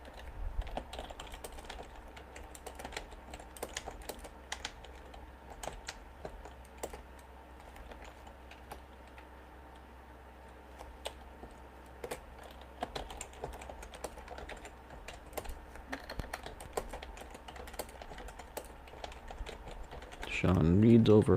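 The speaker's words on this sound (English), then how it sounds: "She's gonna go back to typing." Continuous typing on a computer keyboard, brisk irregular clicks going on steadily at a moderate distance, with a louder shuffle near the end and faint talk in the background.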